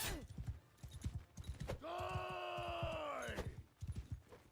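Horse hooves in the video game Empires of Europe 1100 mod beat out a rhythmic clip-clop that continues throughout, broken midway by a drawn-out tonal call.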